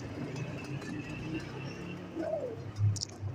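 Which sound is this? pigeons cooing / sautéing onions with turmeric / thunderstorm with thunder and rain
pigeons cooing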